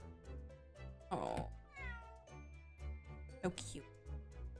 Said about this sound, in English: we should pet the cat